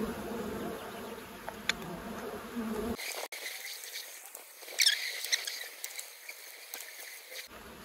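Honey bees buzz around a countryside beehive under repair, with rubber bands holding the foundation while the colony rebuilds comb; a steady close hum with scattered louder passes, its low rumble dropping out after three seconds while the buzzing carries on.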